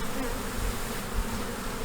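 A swarm of honeybees hums in a thick, continuous drone from a close cluster, loud and unbroken, with no voices.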